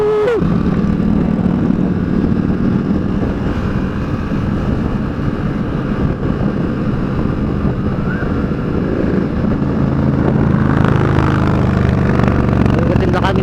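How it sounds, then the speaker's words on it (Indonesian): Harley-Davidson motorcycles on a group morning ride, a loud continuous engine roar with wind rumble throughout, a voice talking over it. "Soalnya ini ada Harley yang keren"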